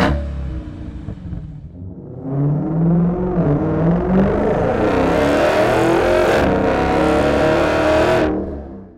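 A 2021 Dodge Challenger engine revs up with a deep, throaty exhaust note through a Magnaflow straight-through muffler, holding a loud rumbling drone before dropping off at the end.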